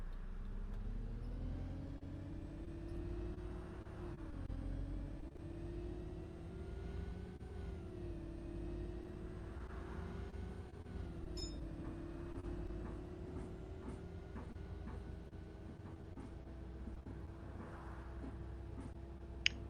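An Optare Solo bus in OMSI 2 pulls away with a steady engine drone that rises gradually in pitch as it accelerates, a continuous mid-level hum with faint mechanical clicks and no talk.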